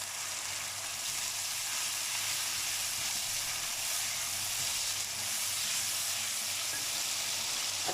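Stock (yakhni) poured into a pan of fried onions for desi-style chana pulao, giving a steady, close, loud sizzle and steamy hiss that holds evenly throughout with no talking.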